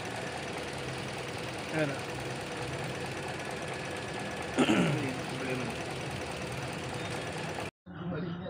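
A car engine idles steadily with a fast, fine ticking knock running through it while the air conditioning is on, and voices talk briefly over it.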